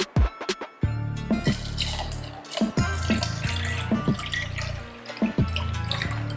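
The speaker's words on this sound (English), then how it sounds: "We can dump some water." Water is poured into a bowl of Orbeez beads during kids' slime making, coming in several close, uneven splashing pours with gurgles and short breaks between them.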